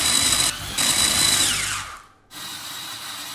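Electric blender blitzing stale white bread into crumbs in a home kitchen: a loud, steady motor whine that cuts out abruptly, then a lower hum resumes, with no speech.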